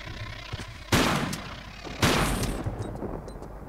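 Shotgun in Tomb Raider IV: The Last Revelation fires twice, roughly a second apart, each a sharp loud blast trailing into a rumbling echo, with faint game ambience between shots.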